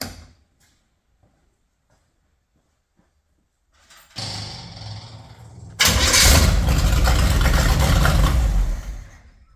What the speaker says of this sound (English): I'll just turn the ignition on again.